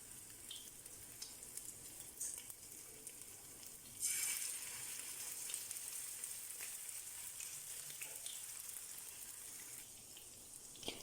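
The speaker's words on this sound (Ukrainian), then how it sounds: "Жарити котлетки я буду з двох сторін до золотистого кольору на середньому вогні" Steady crackling sizzle of chopped chicken cutlets frying in a pan over medium heat, growing louder partway through and continuing without pause; no voices.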